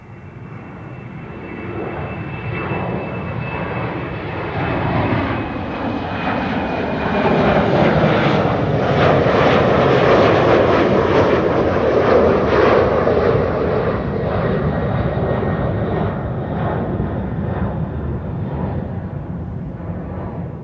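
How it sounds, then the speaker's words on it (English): An Emirates airliner arriving from Dubai at Amsterdam Schiphol Airport, its engine roar swelling from a distant rumble to a loud broadband peak mid-pass, then easing off slowly, steady and sustained throughout with no voices. "Emirates Flight 147 arriving from Dubai."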